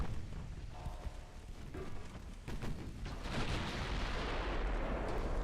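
Naval guns fire from warships during a fleet battle in Ultimate Admiral Dreadnoughts, with a few rumbling gun blasts followed by a steady, dense low roar of continued bombardment.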